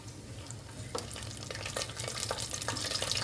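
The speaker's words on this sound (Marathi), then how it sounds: "याच्यामध्ये तूप गरम केलेलं आहे. आता टाकलेत काजू बदाम पिस्ता." Cashews, almonds and pistachios fry in hot ghee in a pan, giving a steady close sizzle with scattered crackles and soft stirring scrapes, growing a little louder toward the end, with no voices.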